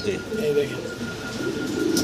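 Fancy racer pigeons coo steadily and softly up close, a continuous low murmur with a faint steady hum behind it; a voice speaks over the birds.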